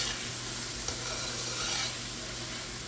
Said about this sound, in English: And we're going to saute that, and we're going to saute that for 5 minutes.